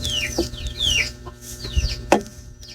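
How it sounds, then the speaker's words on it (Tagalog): Chickens cluck and squawk in short bursts close by, with a sharp louder call near the end over steady farmyard background noise. "Yung manok po, nagsasabong."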